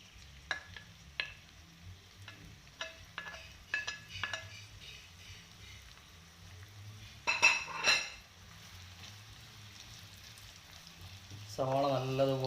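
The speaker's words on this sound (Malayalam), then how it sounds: "സവാള നല്ലതുപോലെ ഗോൾഡൻ ബ്രൗൺ ആവുന്നിടം വരെ നമുക്ക് ഇതൊന്ന് വഴറ്റിയെടുക്കണം" Finely chopped onion frying in hot oil for a chicken roast, stirred toward golden brown; a soft, quiet sizzle runs under scattered clinks of a spoon against the pan, with one brief louder scrape and a low voice late on.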